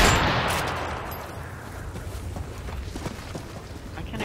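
Gunfire in the Call of Duty video game: a burst of shots opens loud and close, then gives way to a steady wash of distant shooting and scattered quieter reports through the remaining seconds.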